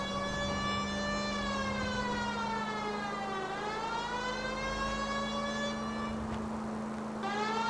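A police car siren in L.A. Noire Remastered wails continuously and loudly, its pitch sweeping slowly up and down over a steady engine hum, with no talk.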